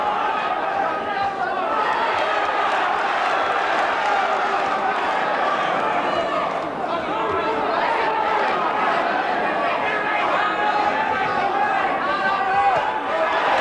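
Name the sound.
boxing crowd cheering for McAuley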